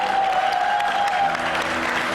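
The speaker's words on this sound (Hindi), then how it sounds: "बहुत सारी तालियां बजाएं जी।" A studio audience claps steadily throughout, a dense, even wash of applause with a faint tone running under it for the first part.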